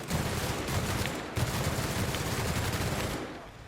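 Sustained rapid gunfire from a weapon in The Outer Worlds video game, dense and loud for about three seconds with overlapping bursts, then tapering off.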